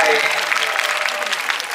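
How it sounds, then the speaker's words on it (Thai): Audience applause for pageant contestants on stage at a Lanna costume event, a steady dense wash of clapping throughout the short stretch, moderately loud and close. "ขอเสียงปรบมือดังๆให้น้องๆข้างหลังด้วยเป็นกำลังใจ"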